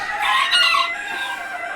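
Chickens on a farm in Manitoba, a short burst of rooster crowing and clucking, close and moderately loud, lasting under two seconds.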